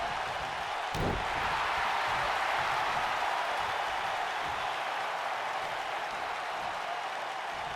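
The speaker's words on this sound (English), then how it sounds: "Adam Carter getting the crowd behind him." A wrestling crowd applauds and cheers in a steady, dense roar of clapping that fills the whole stretch without a break, loud and close, with no clear talk over it.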